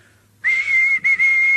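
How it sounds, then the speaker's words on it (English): A steam engine's whistle gives one loud, close, steady high tone with a brief break partway through, sounding alone after a quiet start. "whistle when you're ready, So James waited till he had plenty of steam"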